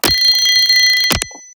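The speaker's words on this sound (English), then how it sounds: "Here, for example, is the resonances of a little metal alarm clock" Synthesized resonance of a small metal alarm clock: one loud, bright, sustained metallic ring with steady tonal partials, cut off by two sharp clicks near the end.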